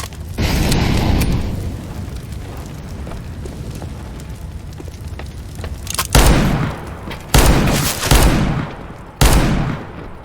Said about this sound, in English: I'm throwing a grenade.